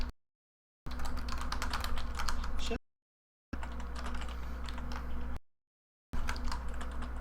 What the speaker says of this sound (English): How could she hear us typing?